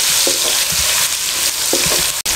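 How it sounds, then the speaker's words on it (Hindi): Chopped garlic frying in oil over a high flame for egg noodles makes a loud, dense sizzle close by, with faint utensil taps scattered through and a brief dip near the end. "1 टेबल स्पून चॉप किया हुआ लहसुन शामिल कर दें और 30 से 40 सेकंड इसमें भून लें"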